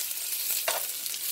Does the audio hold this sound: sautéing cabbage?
yes